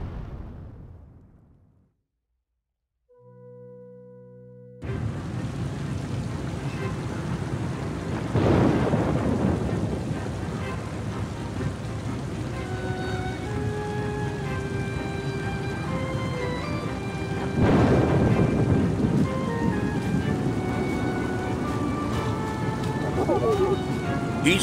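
Stormy night in the video game Oceanhorn 2: steady heavy rain with two big rolling thunderclaps, after a brief quiet musical opening, while a narrator talks over the storm.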